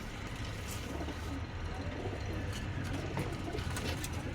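Pet pigeons coo softly amid a steady broad background hiss, with faint distant traffic beneath.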